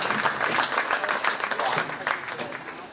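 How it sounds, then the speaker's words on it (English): Crowd applause at a county fair 4-H swine show, scattered hand claps from the audience running steadily through the whole stretch and slowly thinning out near the end, with an announcer's voice partly audible over it. "Everybody give him a big round of applause,"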